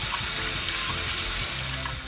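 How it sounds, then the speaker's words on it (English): Running water pours steadily over grated potatoes being rinsed of their starch in a sink, a continuous close hiss and splash of tap flow with no talk. "now that we're finished rinsing the starch out"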